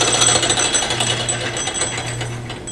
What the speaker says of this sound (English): The rattling is this knob is loose down here.